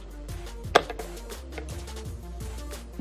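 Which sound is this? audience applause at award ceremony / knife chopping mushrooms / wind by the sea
knife chopping mushrooms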